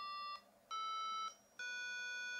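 Three sustained electronic tones from a keyboard app on a Trio cell phone, each a steady note on a B held about half a second to a second with short gaps between, clean and fairly close.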